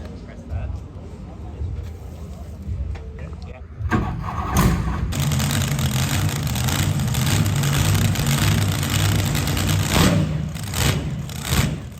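A Chrysler Valiant AP6's slant-six 225 engine, with a two-barrel Holley carburettor, extractors and a sports muffler, rumbles steadily, kicking up louder partway through and running at a throaty idle with occasional revs.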